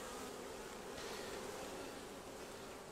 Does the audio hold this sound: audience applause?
no